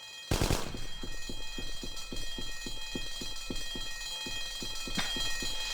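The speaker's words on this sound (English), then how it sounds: "Sadly, you can't shut the alarm off" Alarm bell ringing in the H&D Deluxe war game, a fast steady rhythmic clatter of repeated strikes continuing throughout, after a brief loud burst at the start.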